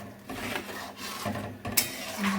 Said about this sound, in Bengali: ভালো করে মিশিয়ে নিই।